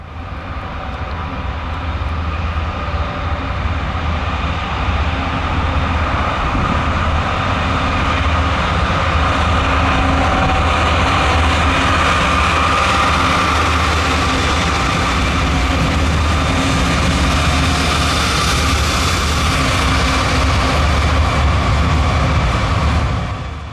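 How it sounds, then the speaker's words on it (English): Norfolk Southern GE GEVO locomotive in Central of Georgia heritage paint leading an international container train on a mountain line, a heavy, loud diesel roar with steady rumbling rail noise that swells as it passes close by. "The Central of Georgia Heritage engine is my favorite of NS's specially painted GEVOs, and on the point of an international container train made it even sweeter."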